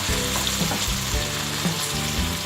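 Okra (bhindi) frying in hot oil for bhindi gosht, a loud dense continuous sizzle close up with faint stirring bumps underneath and no voices.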